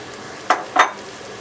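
Soaked chickpeas for meaty maqluba spread over the layered pan, heard as two short, bright scraping clinks of a utensil against the pan over a faint background hiss.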